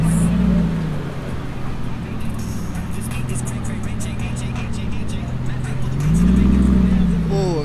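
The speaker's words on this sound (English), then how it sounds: "We got a Gallardo that pulled in." A Lamborghini Gallardo pulls into a Halloween car meet, its engine droning steadily before swelling into a louder rev near the end, with background chatter from the crowd.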